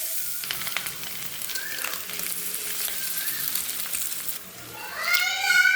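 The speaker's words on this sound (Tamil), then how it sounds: "இப்போ முட்டை உடச்சி ஊற்றிக்கலாம்" Egg cracked and poured into hot oil for an omelette, a steady broadband sizzle that swells louder near the end as the egg hits the pan, with faint clinks and brief tonal squeaks partway through.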